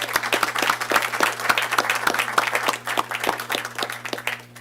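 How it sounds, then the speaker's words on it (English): Steady round of applause from an audience at a school district board meeting, welcoming an elementary school student leader to the front; many hands clapping densely and evenly, moderately loud, with no talking over it. "Let's give her a round of applause"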